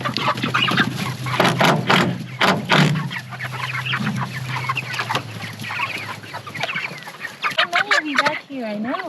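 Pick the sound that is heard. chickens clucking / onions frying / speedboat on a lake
chickens clucking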